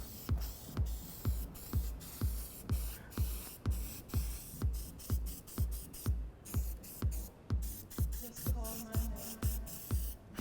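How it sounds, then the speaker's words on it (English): Rhythmic spray bursts from a trigger bottle of plastic protectant onto a Porsche 911 Carrera 993 engine bay, about two per second, close and steady for the whole stretch, with no talking. "So I'm going to spray both of them with the black on black"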